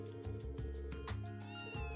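Cat meows from the video game Trails from Zero, a series of clear, repeated mewing calls over a steady game music bed.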